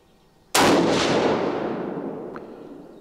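A single loud .22-250 rifle shot from a Winchester Model 70 firing factory ammunition, a sharp blast at close range followed by a long rolling outdoor echo that fades over about two seconds.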